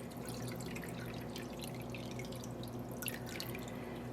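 Teal green dye, thickened with guar gum, poured onto yarn during acid dyeing: a continuous close dripping, trickling wash of liquid with brief splashier bursts, heard alone.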